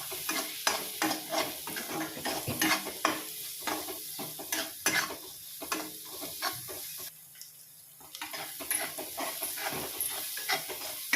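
Onion, tomato and garlic sautéing in a pan with turmeric, a steady loud sizzle broken by frequent scraping stirs and clinks, with a brief quieter lull partway through.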